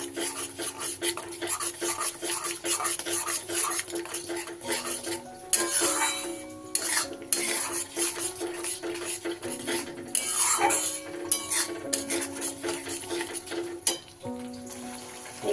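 Yogurt being stirred into masala paneer in a pan over low heat, with repeated scraping and clattering of a spoon against the pan over a soft sizzle, close and without voices.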